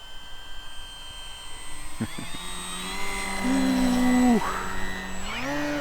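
An FMS Beaver 2000mm electric RC model plane flies past with full flaps, its motor whine rising and bending in pitch as it approaches and passes, steady and moderately loud outdoors.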